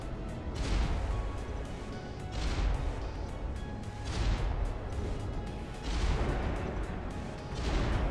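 Warship cannon double shots in the naval combat game Modern Warships, heard as a series of heavy booming blasts spaced a couple of seconds apart, each followed by a rumbling decay, at moderate loudness.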